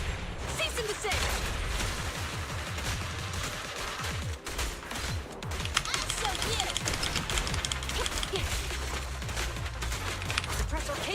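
Dense video game gunfire from a Suppressor K-22 weapon, rapid bursts and rattling shots crowding a loud, busy mix, with voices speaking over the barrage throughout.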